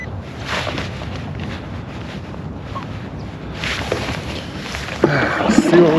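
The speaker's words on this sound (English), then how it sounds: "It's windy, it's cold." Gusty wind buffets the microphone on a fishing boat out on the water in cold, rainy North Texas weather, a steady broad rush swelling in a few stronger gusts with no clear voice over it.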